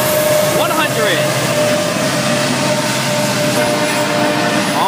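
FEC Train 101, locomotive #565, rumbles past with a loud, continuous roar and rattle of wheels on track, steady from start to finish.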